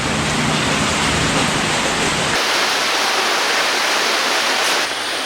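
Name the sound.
heavy evening rain falling on a backwater canal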